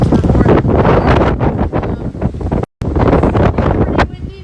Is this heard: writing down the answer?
no